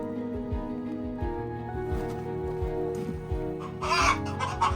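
Hens in a backyard coop nest box make low, repeated clucks and murmurs close by, a steady run of short calls with a sharper squawk near the end.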